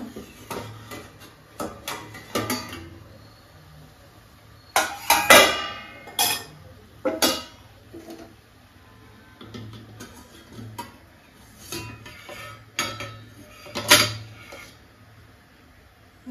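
Lid lifted from a pot of steamed coriander prawns, followed by a series of irregular metallic clinks and taps of utensils and cookware, some bursts louder and close, with quieter gaps between.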